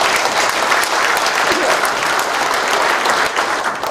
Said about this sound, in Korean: 다시 한번 더 박수 전해주세요.